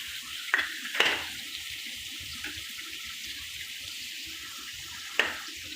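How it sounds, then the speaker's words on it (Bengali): Panch phoron spices sizzling in hot oil in a pan with dried chillies and bay leaves, a steady low crackle with a few sharp clinks of a spoon against the pan, close and fairly quiet, with no talking. "তেলে দিয়েছি কিছু পাঁচফোড়ন"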